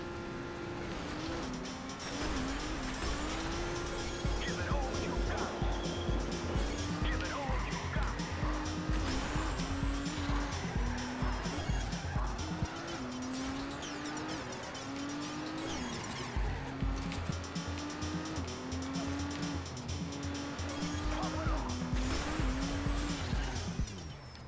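A car in the Trackmania stadium game races with a loud engine rising and falling as it shifts, plus tire squeals along the way, while someone talks over it.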